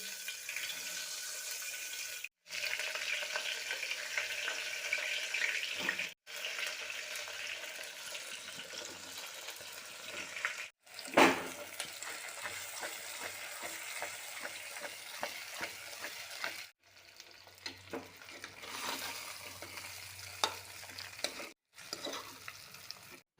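Spice mix frying in hot oil for a Gujarati stuffed aubergine, potato and onion curry, with continuous sizzling and stirring, broken by several short pauses and a sharp scrape near the middle.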